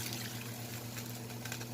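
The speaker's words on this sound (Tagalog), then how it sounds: "Lagyan ko ng tubig guys." Water being poured into a cooking pot while making tokwa't baboy, a steady continuous trickling splash heard close and alone.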